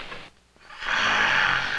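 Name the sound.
man snoring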